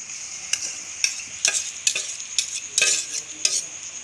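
Cooked dal being stirred into fried masala in a pan, a steady high sizzle broken by repeated scraping spoon strokes at a quick, uneven rhythm, close up.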